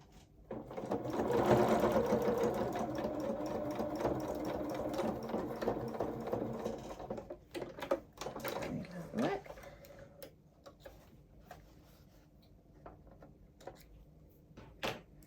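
A sewing machine stitching a hem on small doll coveralls, a loud steady whirring run forward that slows, then shorter reverse bursts and a few faint clicks as it finishes, heard alone up close.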